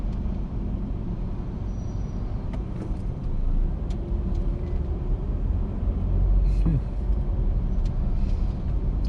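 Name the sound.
large bus driving nearby on a Macau road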